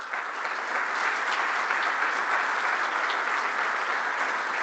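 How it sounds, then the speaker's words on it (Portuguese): An audience at a security conference claps in sustained, even applause at steady loudness, with no break for the whole stretch. "pedia-vos um grande aplauso, por favor"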